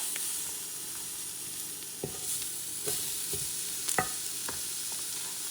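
Mushrooms frying in a lightly oiled pan for burger toppings, a steady close sizzle with a few sharp scraping stirs and clinks of a utensil against the pan.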